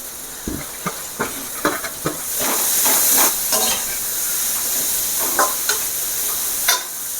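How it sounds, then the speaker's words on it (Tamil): Carrots sizzle and hiss in a hot pan, with intermittent scraping and clattering as they are stirred and tossed for noodles, close up and without voices. "இது கேரட் எல்லாத்தையும் போட்டு நல்லா வதக்கணும்"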